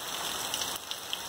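Light rain falling outdoors onto earth, a steady soft hiss of drops spread evenly throughout, with no voices.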